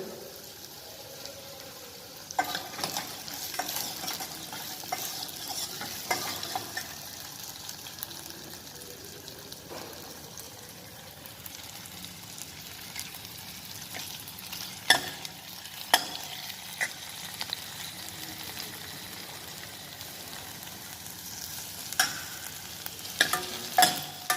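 Potato and broad bean soup mixture cooking in a pot, stirred continuously with a ladle: a low steady simmer and sizzle with scattered scraping and knocking strokes of the ladle, close and fairly quiet.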